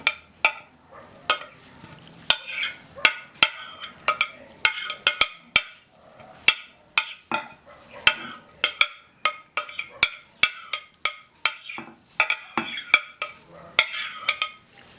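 Fresh vegetable salad, salted and being mixed in a bowl, gives a steady rhythm of sharp utensil clacks and taps, close and fairly loud, for about fifteen seconds with no talking.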